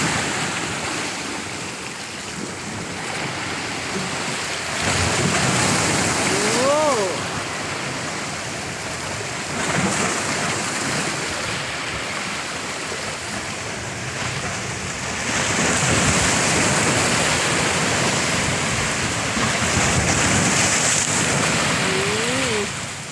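Sea waves rolling onto a beach, a steady broadband wash that swells in several surges roughly every five seconds, with faint voices in the background.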